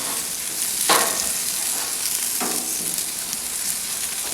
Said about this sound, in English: Let's see how our shrimp and onions are doing. Let's just flip these over.